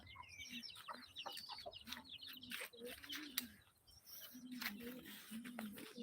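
Rooster and hens clucking and calling in a farmyard, several birds at moderate distance with someone talking over them.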